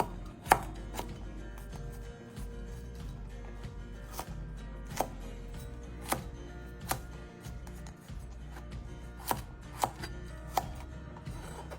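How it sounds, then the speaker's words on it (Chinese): A knife finely chopping cabbage stems on a cutting board, with sparse, irregular sharp chops at a fairly quiet level over a low steady background. "我们来将叶梗切细了"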